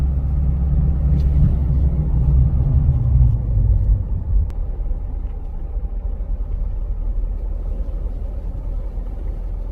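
A tornado roars in a storm over a flooded lake with waves, a deep continuous rumble that is heavy and loud for the first four seconds, then eases to a steady lower roar with no voices.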